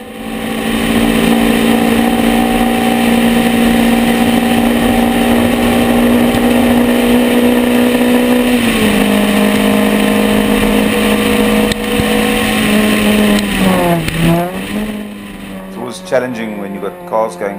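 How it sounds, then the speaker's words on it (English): Racing car engines at a Bulawayo 2014 race, a loud steady drone as cars run slowly in a pack, pitch dipping and wavering near the end, with a commentator talking over it throughout. "cars going slowly, watching each other and watching what's going on behind them"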